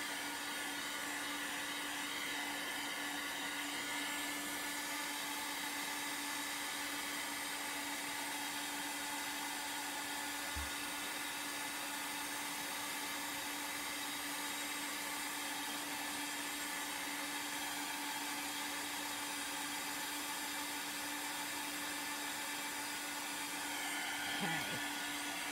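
Hair dryer blowing steadily on chalk paste over Easter decor, a constant close whooshing hum with a steady tone that does not change.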